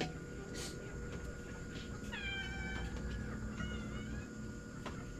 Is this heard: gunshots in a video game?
no